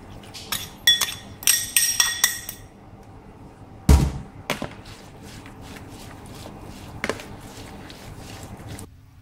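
Mangosteen salad with shrimp and pork, dressed with fish sauce, is tossed with utensils, giving a quick run of bright clinks against the bowl, then one heavy knock and a few sparse taps, close and without speech.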